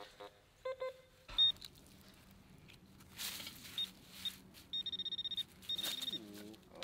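A metal detector sweeps the edge of a spring by a lagoon over a deep target, an old bottle cap, giving short high electronic beeps, single tones and then fast repeated pulsing bursts, among faint handling and digging noises.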